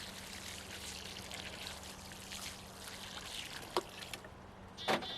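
Water is poured onto a newly planted tree in a November garden, a continuous soft trickling and splashing at moderate distance with a couple of brief knocks.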